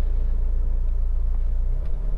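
A 2007 Honda CR-V 2.2 i-CDTi EX diesel station wagon drives along with a steady low engine and road rumble heard from inside the cabin, even and continuous throughout.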